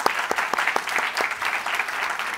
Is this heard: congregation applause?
yes